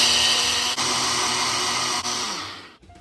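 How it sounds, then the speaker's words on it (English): A countertop grinder whirs steadily as it pulverizes oats into flour, a loud continuous motor hum with two brief dips, then spins down and stops near the end. "We ground all those oats down."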